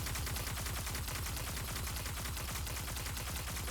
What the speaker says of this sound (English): Machine guns definitely have a little more kick than standard auto rifles.